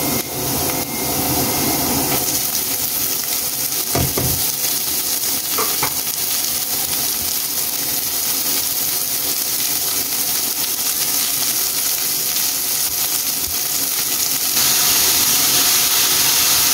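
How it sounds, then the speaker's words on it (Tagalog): Chicken sautés in a pan for sopas, a macaroni soup, while macaroni shells soften. A loud, steady sizzle and frying hiss runs unbroken throughout. "gisa na natin yung chicken habang pinapalambot natin yung macaroni shells guys"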